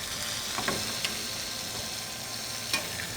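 A ribeye steak sears in a pan with melting butter, giving a soft, even sizzle broken by a few sharp crackles and light stirring clicks, close by with no talk.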